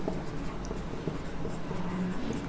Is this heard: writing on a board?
yes